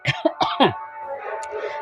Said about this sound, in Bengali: আমার কাশি উঠে গেছে